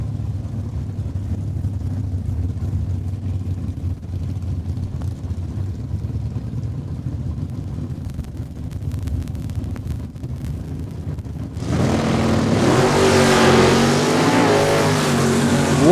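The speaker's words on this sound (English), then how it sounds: "What a wheel stand by Appleby, pulling those front wheels, and he is down the quarter mile" A Mustang drag car launches at Saskatchewan International Raceway, its engine roaring loud and steady, then swelling into a harsher, brighter blast as it pulls down the quarter mile.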